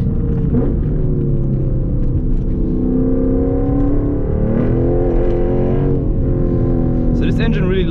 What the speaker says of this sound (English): So this engine really likes to be revved to make the power.